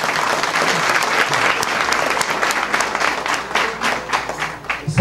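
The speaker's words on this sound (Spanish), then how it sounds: "brindar calurosos aplausos al alcalde municipal" A village crowd at a school classroom inauguration in Tuixcum, Tajumulco, gives the municipal mayor warm, sustained applause, with dense steady clapping that holds for several seconds.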